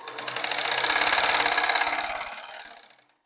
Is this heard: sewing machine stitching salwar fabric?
yes